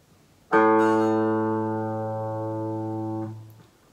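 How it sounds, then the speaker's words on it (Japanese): A single open fifth (A) guitar string plucked, ringing clear and steady for about three seconds before being damped, heard alone. "5弦を鳴らしてみましょう"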